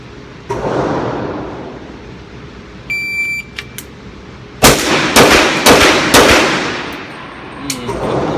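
Sig Sauer Nightmare .357 pistol shots at a range, several sharp loud reports clustered in quick succession after an electronic timer beep, with scattered fainter pops earlier.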